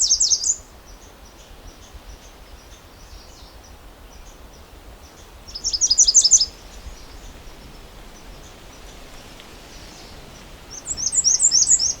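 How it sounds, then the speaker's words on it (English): Three bursts of sharp, high chattering calls from a red squirrel, spaced several seconds apart, ring out over a quiet, steady outdoor background. "A red squirrel also calling behind me."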